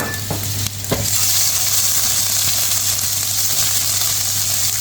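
Whole cinnamon, green cardamom, star anise and fennel seeds sizzle loudly in oil in a handi, a dense, steady frying hiss with a couple of quick stirring clinks near the start.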